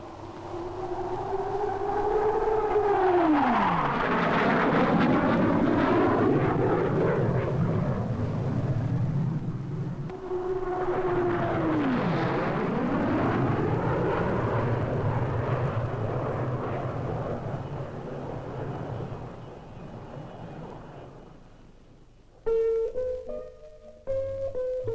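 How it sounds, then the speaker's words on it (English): A Vickers Supermarine Swift jet fighter flying past at an air show, its roaring whine sweeping down in pitch twice as it passes, loud and fairly close, then fading away. "And here comes the Swift."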